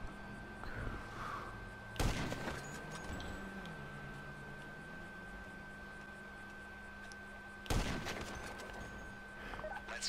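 Gunfire in GTA V Online during a heist setup mission, two sharp, loud bursts several seconds apart over a low, steady game background hum.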